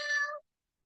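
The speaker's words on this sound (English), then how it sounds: "Okay, it's a cat." A single short cat meow, clear and fairly close, lasting under half a second before silence.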